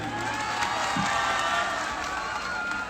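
Crowd at a live stage show with Pawan Singh clapping and cheering together, a dense, steady wash of applause and shouts that holds at full strength from start to finish.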